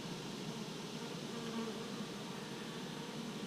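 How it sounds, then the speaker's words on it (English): A steady, dense buzz of laid-back Georgia honey bees working a nuc hive in August, close and continuous with no talk. "These are the Georgia bees. They're very laid back bees."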